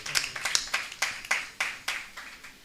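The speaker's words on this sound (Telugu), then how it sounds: "మరొకసారి చప్పట్లు కొట్టి దేవుని గణపరచండి." A church congregation claps in a loose, steady rhythm, about ten distinct claps over a couple of seconds, moderately close and without other sounds.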